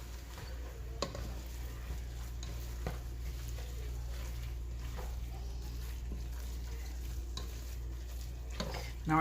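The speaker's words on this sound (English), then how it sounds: "Just mix that up right quick." Shredded chicken filling seasoned with sazon for empanadas is stirred in a pan, with faint, sparse scrapes and soft sizzle over a steady low hum.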